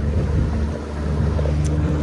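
A speed boat runs across Attabad Lake, its engine drone and wind rush steady and loud throughout with water hiss, no talk.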